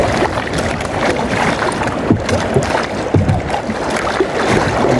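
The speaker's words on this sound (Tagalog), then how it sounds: "Wala nang ulap pero malakas pa yung hangin." Strong wind buffets a small boat at sea under clear skies, a loud, constant roaring rush mixed with choppy water.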